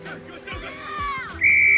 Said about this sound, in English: And the ump blows his whistle